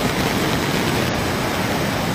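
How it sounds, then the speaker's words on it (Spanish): Floodwater from a creek swollen by tropical storm Alberto in El Salvador rushes past as a steady, loud, close broadband roar, continuous and unbroken with no talk. "miren la correntada que va aquí por afuera ya"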